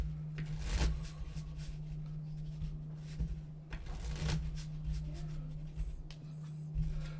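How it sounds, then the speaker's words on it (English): A deck of playing cards shuffled up close, repeated riffling bursts and soft flutters over a steady low hum, with quiet room noise between shuffles. "Not getting much out of this deck. Shuffle it again."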